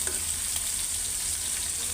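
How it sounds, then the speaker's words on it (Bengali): Potol (pointed gourd) slices frying in a pan, giving a steady, close sizzle with faint stirring scrapes throughout and no talk. "এই পটল ভাজা করব"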